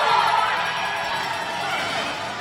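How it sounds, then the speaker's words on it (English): A roller derby crowd cheers loudly at a championship final, a steady wash of broad, roaring noise with whoops, holding fairly even throughout. "The crowd is going crazy."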